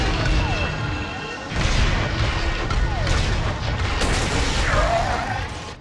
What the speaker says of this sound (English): We need an LAAT to provide supporting fire.